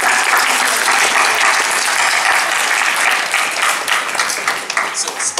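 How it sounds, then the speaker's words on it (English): Dense audience applause fills a Doctor Who Q&A panel at a sci-fi convention, loud and sustained from the start, thinning slightly into scattered claps near the end. "Big round of applause, come on!"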